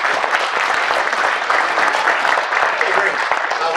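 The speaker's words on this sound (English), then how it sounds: "Give me some applause if you like the concept of what we're doing" An audience at an aircraft engine forum claps loudly and continuously in a dense, close patter, with a few voices mixed into the applause throughout.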